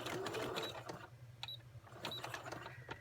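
A sewing machine stitches through a paper card set at an angle, a steady close motor whir with needle clatter running throughout at moderate loudness, no talk.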